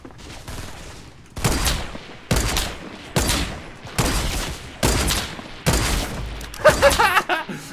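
Video-game sniper rifle fire rings out as a regular series of loud, close shots, about one every second, each with a short ringing tail.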